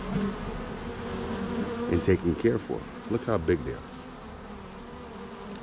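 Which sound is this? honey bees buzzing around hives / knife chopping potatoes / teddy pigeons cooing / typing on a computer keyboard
honey bees buzzing around hives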